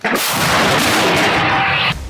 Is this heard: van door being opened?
no